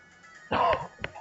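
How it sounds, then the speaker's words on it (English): A single throaty cough, close and fairly loud, followed a moment later by a shorter second cough. "Excuse me for coughing"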